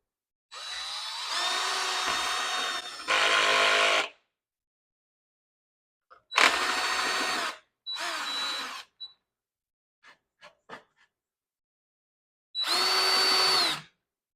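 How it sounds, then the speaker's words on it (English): A power drill with a carbide countersink bit and 3/16 inch drill bit runs in several loud bursts of a few seconds each, with short pauses and faint clicks between them. "I'm using the 1/2 inch shank adjusted down using the 3/16 drill bit"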